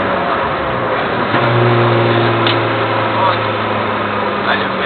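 A car engine hums and accelerates during a driving lesson, a steady drone heard from inside the cabin that swells slightly as it speeds up, with someone talking over it.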